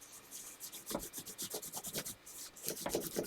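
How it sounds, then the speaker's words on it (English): A wax crayon or oil pastel is rubbed hard over a leaf laid under paper, making a close, rhythmic run of rapid scratchy back-and-forth strokes with a brief pause midway. "You want to rub as hard as you can. to really make the wax or the oil pastel nice and hard."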